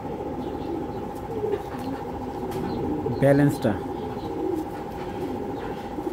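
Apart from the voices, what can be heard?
racing pigeons in hand, wings and cooing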